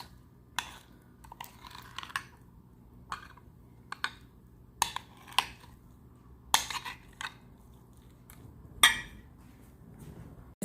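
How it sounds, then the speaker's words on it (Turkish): A spoon scraping and clinking in a bowl while strained yogurt is mixed with cucumber, with sparse, irregular knocks and taps over a quiet background and no talk. "Bunu iyice karıştırdıktan sonra salatalığımızla birlikte hepsini karıştırıyoruz."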